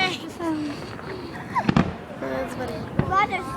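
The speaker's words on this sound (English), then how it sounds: "God, they're so scared of these fireworks." Fireworks burst in the distance with a few sharp pops and cracks spread across the moment, while people talk and a high voice chatters over them.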